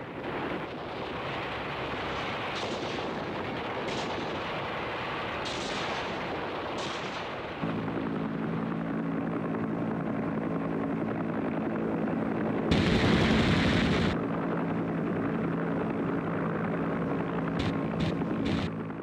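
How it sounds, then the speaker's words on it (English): Gunfire and heavy rotor-like droning from American helicopter gunships and fighter bombers pounding Viet Cong guerrillas near Tan Son Nhut in 1968 war footage; a steady low roar with a loud, dense burst midway and scattered sharp cracks, no talk. "the guerrillas were hammered by American helicopter gunships and fighter bombers."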